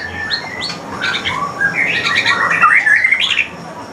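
A white-rumped shama (murai batu) calls loudly and close by in a caged setting, a rapid run of chirps, squawks and whistled phrases building over several seconds.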